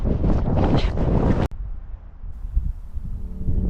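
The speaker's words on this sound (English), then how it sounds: "It's pretty windy up here" Strong wind on an exposed hilltop trail in Australia buffets the microphone in a loud roaring rush, then drops abruptly and continues as a lower, gusty blowing.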